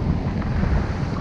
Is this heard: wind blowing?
yes